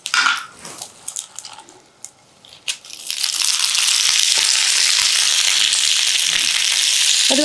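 Palak spinach goes into a pan of frying garlic: a few soft clatters and taps at first, then a loud, steady, close sizzle that carries on unbroken to the end.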